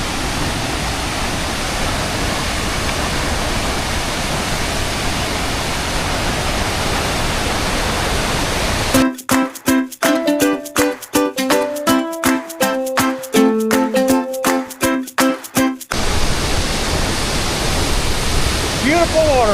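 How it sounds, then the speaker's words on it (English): At Bering Falls in East Glacier, a waterfall gives a steady, full roar of rushing water that stays loud and even throughout; in the middle stretch the roar is briefly replaced by a run of rhythmic music. "Beautiful waterfalls."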